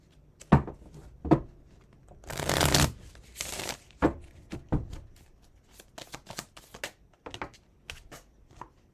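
A deck of cards shuffled and riffled near the mic, with sharp snaps and a dense burst of fluttering riffles in the middle, then a run of lighter card taps and flicks, with no talking.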